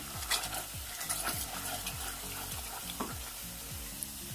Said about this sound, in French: Donc on va bien remuer d'abord.